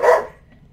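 A single short dog bark, loud and close, that cuts off quickly and fades into near silence.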